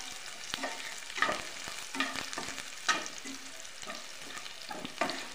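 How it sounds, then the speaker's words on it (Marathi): Onion fries in a pan until reddish for chivda bhaji: a soft, fairly quiet sizzle broken by regular spatula scrapes and stirring strokes. "2 मिनिटं असं भाजून घेते, कांदा लाल होईपर्यंत भाजून घ्यायचा"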